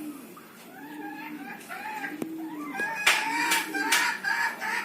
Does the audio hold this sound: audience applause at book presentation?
no